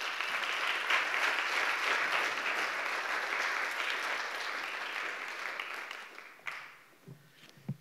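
Chapel audience at Greenville University applauding to welcome a speaker to the pulpit, a full, sustained burst of clapping from a crowd that tapers and fades out near the end.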